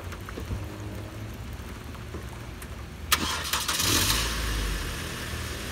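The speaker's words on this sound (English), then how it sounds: "This is the Ford Focus SE battery going dead." A Ford Focus SE with a weak, dying battery tries to crank and then catches: a low engine rumble throughout, a sharp click near the middle, then a brief louder surge as the engine revs, close and without talk.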